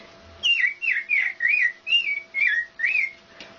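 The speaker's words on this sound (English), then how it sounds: "American robin." An American robin sings a clear series of seven short, even, whistled phrases, evenly spaced and close by, against a quiet background.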